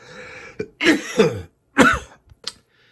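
Several harsh, close coughs come in a short burst, with a throat-clearing rasp between them and brief quiet gaps.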